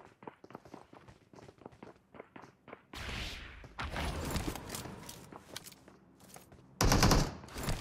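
Gunfire in the mobile battle royale PUBG Mobile: a run of quick, sharp clicks and taps gives way to loud, close rapid-fire bursts of automatic weapons, with a final heavy volley at the end.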